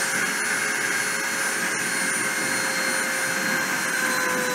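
A machine spindle runs at high speed toward 30,000 RPM during a deposition process, producing a loud, continuous high-pitched whine with steady tonal lines and a constant airy hiss throughout.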